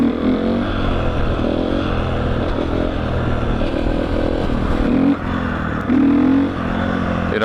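A supermoto motorcycle engine hums steadily while riding a lap around a school, a continuous mid-loud drone with small throttle changes and rising revs toward the end.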